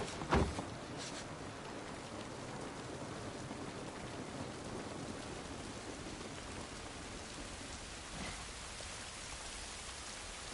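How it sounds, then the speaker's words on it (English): Steady rain pours in the video game The Last of Us Part 1, a dense continuous hiss with a sharp thump near the start, heard alone without talk. "This rain ain't gonna do us any good."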